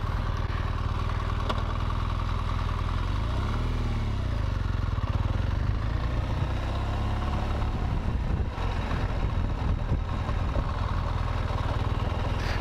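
An off-road motorcycle engine runs steadily at close range on a first trail ride, its revs rising and falling with gear changes, loud and continuous, with no talk over it.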